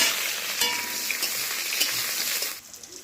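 Small pieces of cut, washed potato fry in hot oil in a wok with a bright, dense crackling sizzle. It runs steadily, then drops quieter near the end as a few scrapes come through.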